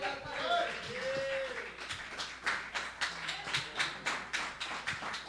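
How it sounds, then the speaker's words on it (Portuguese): Congregation in a church service clapping in a steady rhythm, the claps growing more distinct toward the end, with singing or voices underneath at the start. "Aplauda o nome do Senhor Jesus."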